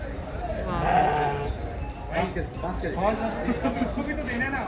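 Lambs bleat repeatedly at a crowded livestock market in Kuwait during Eid, their wavering cries overlapping close by amid people talking.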